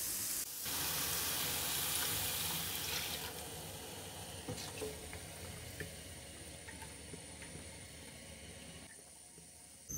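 Milk poured into a pan of frying egg masala gravy for egg malai curry, giving a loud sustained sizzle and liquid hiss that eases into a steady, softer bubbling simmer.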